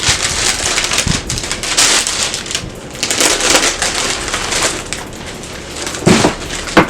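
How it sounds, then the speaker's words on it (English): Crinkly, papery rustling as the orange top of a sneaker box is peeled back, continuous scraping and tearing with a few sharper crackles, close and fairly loud. "So let's peel this orange top back real quick."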